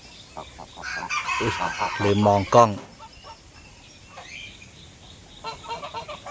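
Young Toulouse goslings call as they walk along, a close cluster of high, wavering peeps lasting a couple of seconds, then fainter calls later, with someone speaking briefly nearby.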